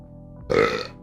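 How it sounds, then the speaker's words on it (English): A single loud, close burp lasting about half a second, standing alone against a quiet background hum. "He needs to burp."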